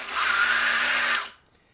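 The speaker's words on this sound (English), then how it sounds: "my sander started to die on me" A failing electric sander, used on a 1968 Ranchero body, runs with a steady loud whirring whine for just over a second, then cuts out and winds down into quiet.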